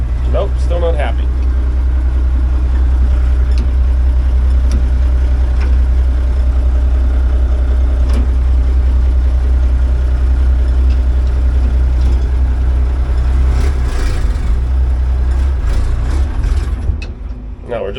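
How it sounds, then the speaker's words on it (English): An old crane truck's diesel engine idles heavily with a deep, steady rumble throughout, rough and loud up close, then falters and drops away near the end as it stalls. "No, we're just stalling the engine right out."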